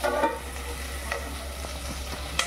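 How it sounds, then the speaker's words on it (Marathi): Tomato, onion and capsicum cooking together in a pan for soya chap bhaji, giving a soft steady sizzle with a few faint stirring scrapes and small clicks, close and quiet. "टोमॅटो कांदा आणि शिमला मिरची याला जरा आपल्याला शिजून द्यायचं आहे"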